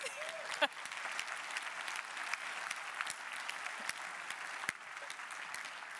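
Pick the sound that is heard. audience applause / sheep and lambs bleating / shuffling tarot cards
audience applause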